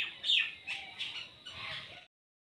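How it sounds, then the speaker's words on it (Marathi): Birds near a rural home give a few short, bright squawking calls in quick succession, fairly close and clear over a quiet background. "आवाज येतो ना पाखरांचा."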